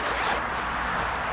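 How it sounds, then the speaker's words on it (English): A zipper is pulled along a waterproof body bag in one quick continuous rasp, close and fairly loud, with no talking. "The zipper."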